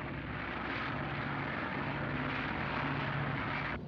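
A propeller airplane drones steadily overhead, a continuous loud engine roar that holds for several seconds and then cuts off, with no talking.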